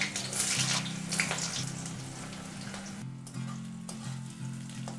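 Onion frying lightly in mustard oil with black cumin, a close, continuous hiss and crackle under a low steady hum, with brief stirring scrapes and no talk.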